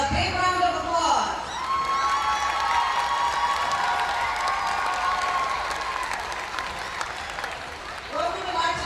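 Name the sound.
audience applause and cheering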